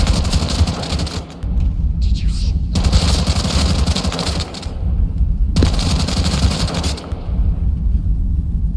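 A machine gunner opening fire in the game Into the Radius 2, with long rapid bursts of automatic gunfire broken by short pauses, loud and sharp.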